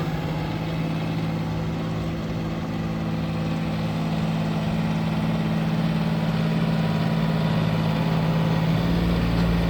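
A new John Deere 5210 4x4 tractor engine idles and runs slowly with a steady low drone and a constant hum, close and unbroken throughout.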